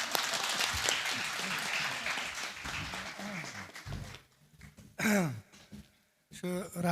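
Audience applause welcoming a speaker at a book presentation: full, sustained clapping from a crowd that fades away, then a voice speaks alone.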